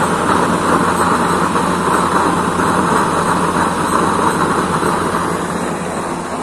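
A used-oil burner nozzle on a homemade stove burns with a blue flame while heating water, giving a steady, loud, continuous roar that holds even throughout, with no speech.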